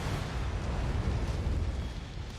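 Missile explosion in the mech combat game MechWarrior 5: Mercenaries: a loud, sustained roaring blast with deep rumbling low end that fills the whole moment without pause.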